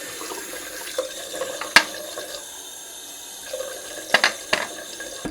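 A tap runs steadily while a razor is rinsed beneath it, with a few sharp clicks and knocks against the sink, close by.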